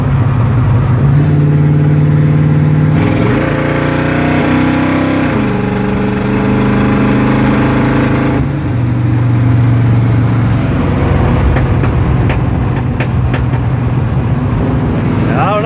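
A Chevy C30 truck engine runs loud and steady, its pitch dipping and surging as it bogs, with a few sharp popping backfires near the end.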